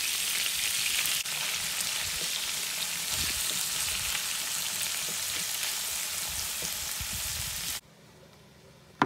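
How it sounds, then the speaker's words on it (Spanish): Ground beef frying in about half a tablespoon of oil in a pan, a steady close sizzle with crackles and occasional stirring scrapes, stopping abruptly near the end. "En una cacerola colocaré poquito aceite, aproximadamente media cucharada de las de guisar. Y enseguida colocaré la carne."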